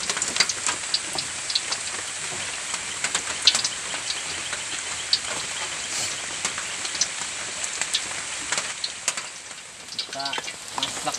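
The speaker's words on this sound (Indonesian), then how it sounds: "Tapi sudah gerimis tuh, tapi belum lebat nah." Light rain drizzles over a forest camp hut, a fine continuous patter with scattered sharper drops throughout, steady and unbroken.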